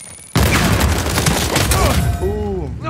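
A bomb explodes in an Uncharted 4 multiplayer match, a sudden loud boom followed by sustained crackling, rumbling debris and chaotic in-game noise, with a player's voice talking over it.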